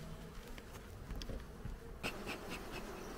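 Caucasian honey bees hum continuously in an open hive, with a few soft taps and knocks near the midpoint and no voices.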